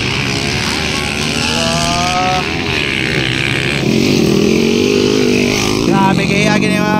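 Underbone motorcycles race in an open-class heat at a 2024 festival, their high-revving two-stroke engines whining loudly as they pass close, pitch climbing and dropping through the gears while an excited commentator talks over them.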